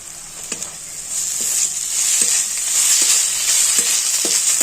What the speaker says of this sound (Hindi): और इसे भी थोड़ी देर के लिए भूनेंगे।